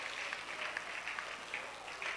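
An audience claps steadily at a morning church devotion, producing a continuous patter of applause at moderate distance, with no talk.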